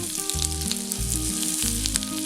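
Finely chopped garlic and ginger frying in oil with cumin seeds give a steady, close sizzle with a low crackling rumble that runs through the whole moment, and no voices.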